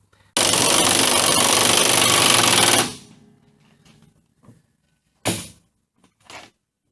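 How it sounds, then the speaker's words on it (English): An air impact wrench on a 1965 Chevelle rattles loudly for about two and a half seconds as it tightens a nut against a crush sleeve, then cuts out abruptly. A few faint clunks and short knocks follow. "I'm going to use a zip gun"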